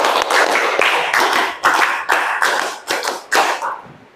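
A classroom of students claps together in a rhythmic counted pattern, bursts of sharp group claps in quick sets with brief gaps, loud and close, ending abruptly.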